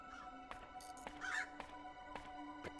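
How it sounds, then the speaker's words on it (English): Crows caw repeatedly in the survival-horror game Crow Country, a few sharp calls spread across the moment over a steady humming game ambience. "The crows."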